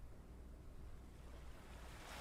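A far-off storm brewing over the ocean sounds as a low, constant rumble of surf and wind, distant and hushed, steady throughout with no talking.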